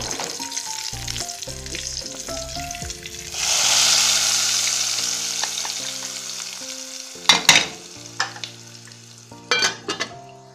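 Garlic tempering sizzles loudly as it is poured into spinach for a palak dish, a broad frying hiss under steady tonal background music, with a few sharper stir clatters near the end.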